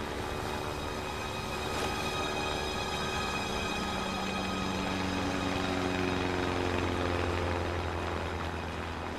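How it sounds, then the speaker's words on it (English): A plane flying overhead at sea, a steady droning engine hum that holds at moderate loudness, with a rising tonal whine through the middle. "See this plane coming towards me."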